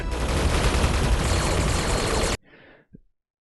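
Dense, continuous gunfire from the Korean monster film Yonggary, a loud sustained barrage that stops suddenly and is followed by a faint breathy sound and a brief low thud.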